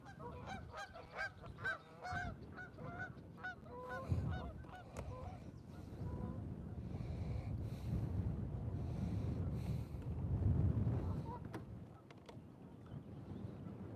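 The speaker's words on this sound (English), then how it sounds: "It is windy on this end of the lake." Wind gusts over a lake on a fishing outing, a steady low roar building and easing across the stretch, with geese honking loudly in the first few seconds and occasional calls later.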